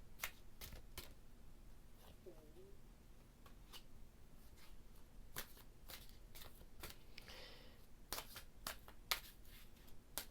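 Tarot cards being shuffled and handled, a string of quick papery riffles and snaps at irregular intervals over a quiet room, with one longer burst of rustling toward the end.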